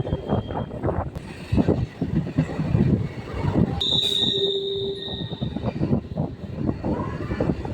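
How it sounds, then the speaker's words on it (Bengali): Moving train running along tracks through a curve near Krishnanagar, on the Krishnanagar–Amghata route, on a misty morning, a loud continuous rumble of wheels and carriages with a high wheel squeal rising midway. "আবার একটি সুন্দর বাঁক নিয়ে ট্রেন এখন সামনে এগিয়ে চলেছে"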